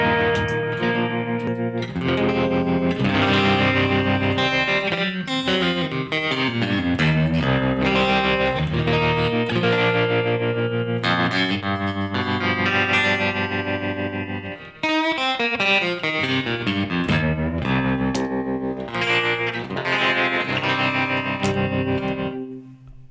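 Baritone guitar played through a tremolo effect, dense chords ringing loud and sustained with pulsing, effect-laden texture and a brief break midway, no talking.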